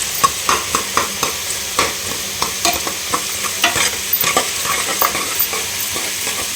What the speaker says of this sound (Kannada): ಅಷ್ಟರೊಳಗಡೆ ಇಲ್ಲೂ ಕೂಡ ಆನಿಯನ್ ಫ್ರೈ ಆಗ್ತಾ ಇದೆ